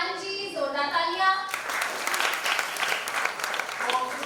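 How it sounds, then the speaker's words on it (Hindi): A host speaks briefly, then a crowd at a children's singing contest grand finale in Mumbai breaks into sustained, steady applause for a welcomed guest, filling the remaining few seconds. "सैफुर रहमान जी, जोरदार तालियां।"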